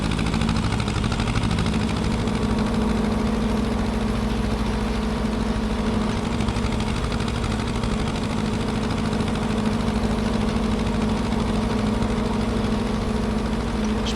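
An old tractor engine in the video game Farming Simulator 25 idles steadily with a low, continuous rumble and rhythmic chugging, unchanging for the whole stretch, with no voices.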